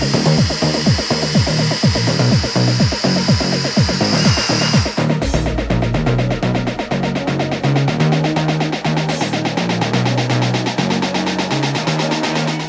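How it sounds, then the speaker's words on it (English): A power drill whirs steadily up close while drilling small guide holes in a modified Toyota GR Corolla, with rapid grinding pulses at first, then a lower continuous motor drone as it bores on. "After drilling some small guide holes,"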